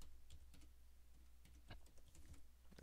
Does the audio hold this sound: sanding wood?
no